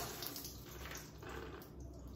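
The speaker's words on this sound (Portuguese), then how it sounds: "vou puxar a alavanca aqui pra vocês verem a água que sai" Water rushes steadily from a bathroom drain after a lever is pulled, a continuous, fairly loud hiss and gush with no pauses and no voices.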